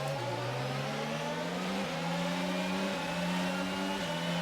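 Several F1 cars in the F1 22 video game accelerate together off the line at the start of a wet Grand Prix, a dense, continuous engine roar with stepped pitch rises as gears shift, loud and steady with no talking.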